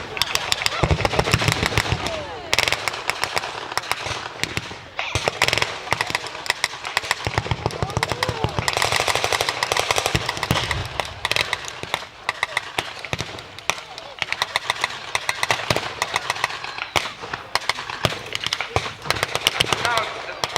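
Small-arms and machine-gun fire at a battle reenactment at Kirby Hall crackles continuously as rapid, overlapping shots and bursts, loud and dense throughout, with talk at times beneath.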